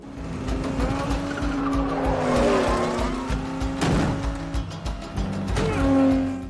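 Race car engines roar loudly at a flying race start in a film scene, with tire squeal and skidding, rising and falling engine pitch, and cars passing close by through the whole stretch.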